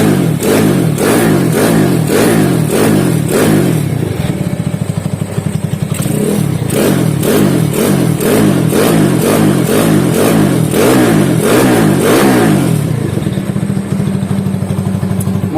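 A rebuilt Honda CB motorcycle engine with a 68 mm piston and 66 mm stroke runs loud and close, revving in steady repeated surges over a rough, clattering idle, with no talk.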